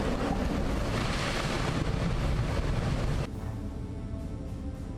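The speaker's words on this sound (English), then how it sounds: "The moment floodwater sweeps a car away from its position clearly illustrates the power of water rushing through narrow and steep terrain." Floodwater rushes loudly through narrow, steep terrain as it sweeps a car from its position, a dense continuous roar of churning water and wind with no voices.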